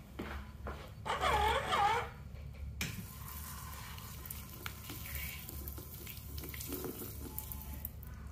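Water runs from a restroom sink faucet in an Aldi store, a soft continuous hiss with a brief louder splashing burst early on, fairly quiet against room noise.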